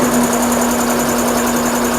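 An EMAX 7.5 hp two-stage industrial air compressor with Silent Air runs steadily from close range, giving a constant hum with a strong tonal drone and no breaks.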